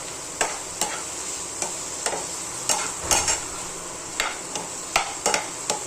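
Paneer bhurji stirred and fried in a pan: a soft, steady sizzle with sharp spatula scrapes and taps against the pan coming in irregular bursts, close and alone.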